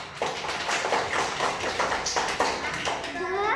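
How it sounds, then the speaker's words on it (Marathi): Schoolchildren in a classroom clap their hands in a quick burst of claps, close by and uneven, with children's voices chattering over them. "टाळ्या"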